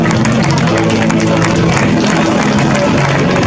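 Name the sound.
crowd applauding a rowing team at a regatta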